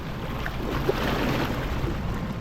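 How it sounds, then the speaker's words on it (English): Sailboat under way on the open North Sea, a steady broadband rush of wind and water close to the microphone with no voices. "As you can probably tell or hear, we are sailing now"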